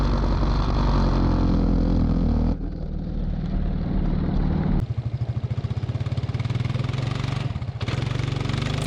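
Arctic Cat 300 4x4 ATV engine labouring steadily up a hill while the wheels spin and dig in, a loud close drone that dips briefly mid-run, then returns with a throbbing, pulsing rhythm as the revs rise.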